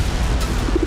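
A single pigeon coos softly at high altitude in the Himalayas, a few low repeated hoots over steady outdoor background noise, fairly close and moderately loud.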